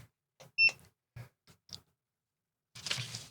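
A single short electronic beep from a barcode scanner sounds among a few soft clicks and taps, then a brief rustle follows in a quiet room.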